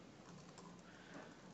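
Computer keyboard typing at a developer talk, a faint, dense patter of keystrokes set under a steady room hiss, heard from a distance with no voices.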